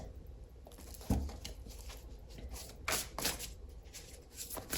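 A deck of cards being shuffled during a card reading, a soft continuous papery riffling and patter with a light thump, close and fairly quiet, no talk.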